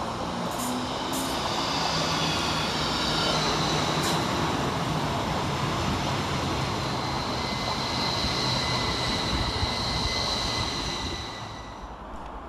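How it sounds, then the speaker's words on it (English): A Northern class 333 electric train pulls into Steeton and Silsden station, a steady rumble and hiss of wheels on rail building close by and holding, with faint high tones and a few brief squeals before fading at the end. "And here comes our train in the form of"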